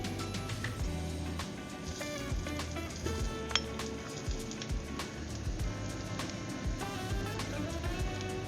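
Curry powder, coriander, chili powder and smoked paprika are stirred in a pan for a sweet potato and chickpea coconut curry. Metal utensil clinks and a soft, rain-like crackle run steadily throughout, with tonal music faintly underneath.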